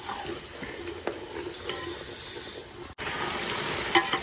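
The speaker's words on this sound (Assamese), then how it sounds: "মাংসটো পূৰা তেলত পূৰা ভাজি ল'ম" A soft, steady sizzle of meat frying in oil, outdoors at a campsite, with occasional scraping clinks from stirring, close and fairly quiet, no voices.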